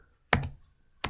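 A computer keyboard is typed on while entering a spreadsheet formula, giving two crisp, close key clacks about three-quarters of a second apart in a quiet room.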